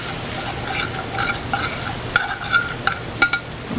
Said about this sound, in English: my bacon is somewhat rendered off. Doesn't have to be all the way crispy. It's started to cook.